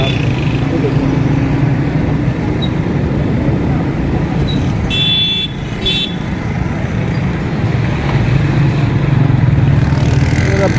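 Steady roadway traffic rumble heard from a moving motorbike on a busy street, with engine drone and passing vehicles throughout and a brief high tone partway through.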